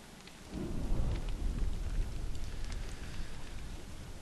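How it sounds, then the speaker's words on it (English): Steady rain with a deep thunder rumble swelling early, from a survival game's stormy day, heard alone without talk and fading into a constant downpour wash. "It's gonna always rain on the more annoying of the days."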